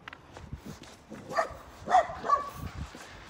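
A dog on a morning walk barks a few times at moderate distance, with short yips coming in quick succession over quiet outdoor background.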